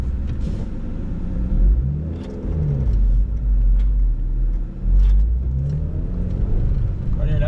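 A 2015 Honda Civic Si with a manual gearbox climbs a small hill, its engine a steady low rumble with slight revving swells, heard from inside the car as a person talks over it.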